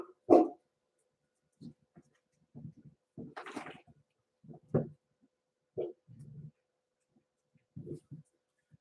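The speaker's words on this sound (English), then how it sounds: "You guys want to stop barking out there?" Dogs bark in scattered bursts, a sharp close yelp first, then several muffled barks and whimpers at uneven intervals, with quiet gaps between.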